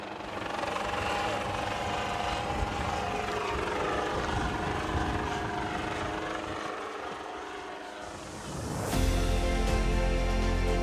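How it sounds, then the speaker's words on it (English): A helicopter lifts off and flies during a rhino capture operation in the African bush, its rotor thumping steadily as a loud continuous drone that dips briefly before swelling closer and louder near the end. "the chopper's going in the air to start the process"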